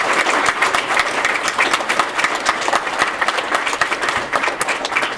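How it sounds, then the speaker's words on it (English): An audience at a graduation ceremony applauds steadily, a dense, even wash of clapping from a crowd that carries on for several seconds without a break. "Round of applause for these wonderful people."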